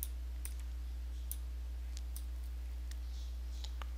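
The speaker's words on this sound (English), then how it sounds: "I'm just going to subtract just by clicking along here." A computer mouse clicks while an area is being subtracted from a selection in Adobe Photoshop CC: about a dozen sharp, faint, irregular clicks spread over a steady electrical hum, with no talking.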